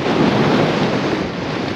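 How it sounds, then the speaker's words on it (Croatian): Strong wind blows across a snowy mountain slope during a winter ascent of Čvrsnica, buffeting the microphone as a loud, steady, roaring rush with no one speaking. "Obzirom na vjetar koji puše, ne smijem dizati dron."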